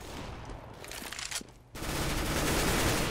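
Gunfire in the Counter-Strike: Global Offensive video game, a dense burst of rapid shots and a short gap, then a sustained loud roar of continuous fire.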